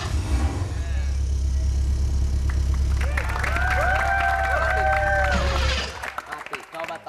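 A motorcycle engine on a television studio set runs with a low steady rumble for several seconds before cutting out, while people talk over it.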